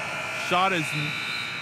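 A game buzzer at a high school basketball tournament sounds once in a short, harsh buzz, heard over steady gym noise with a voice talking nearby.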